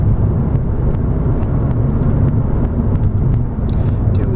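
Steady engine and road noise from a 2006 Scion tC front-wheel-drive coupe cruising just over 50 mph, a constant loud interior drone with light tire and wind rush.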